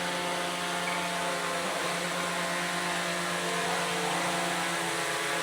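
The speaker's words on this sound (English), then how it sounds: "That's a drone and all." Drone propellers whirring steadily at a night drone club flying session outdoors, a loud continuous broadband buzz with harmonic tones that holds throughout without talk.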